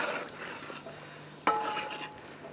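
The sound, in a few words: stirring chicken biryani in a large cooking pot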